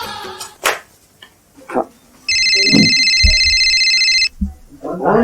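A telephone rings with a loud, steady electronic trill lasting about two seconds, in a household comedy scene where people talk before and after it.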